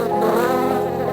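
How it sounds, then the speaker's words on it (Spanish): Bees buzz steadily close by among flowering coffee plants, a dense continuous hum of wings with no pauses. "los productores introducen en los cafetales colonias completas de abejas para polinizar las"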